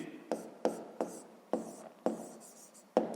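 A pen writes on paper as math problem answers are jotted down, with separate scratchy strokes and taps coming in an irregular rhythm, close and quiet.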